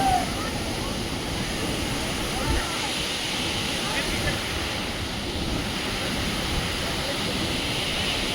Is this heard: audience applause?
no